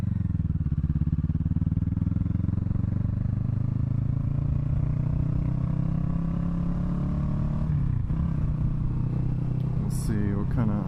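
A 2017 Kawasaki Ninja 650 motorcycle rides steadily at cruising speed, its engine droning loud and constant with rising pitch over the run, wind rush throughout and a brief clatter near the end.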